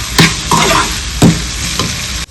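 Chicken filling for mini chicken pops cooking in a pan, a steady loud sizzle broken by several scraping spatula stirs at a slow, uneven rhythm, close by and with no voices.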